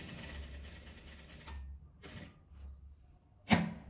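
Sewing machine running in short bursts, stopping and starting to backstitch two stitches at the start of a seam on a hair scarf, with a sharp click at the end.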